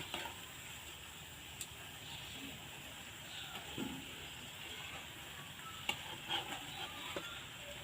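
Jalebi batter spirals fry in oil over medium heat, giving a soft, distant bubbling sizzle with a few faint clicks and taps scattered through, quiet overall and without talk.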